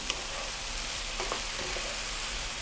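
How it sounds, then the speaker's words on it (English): Mushrooms and tomatoes frying together in a pan over high heat, a steady soft sizzle with a few faint stirring scrapes, close and fairly quiet. "we're going to cook these again on a high heat for about 5 minutes"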